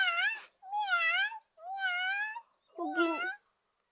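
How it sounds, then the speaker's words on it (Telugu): Four distinct cat meows in a row, each drawn-out and whiny with short pauses between, close and clear with no other sounds around them. "పిల్లి సౌండ్ వస్తుంది"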